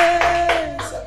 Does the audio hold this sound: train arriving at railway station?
no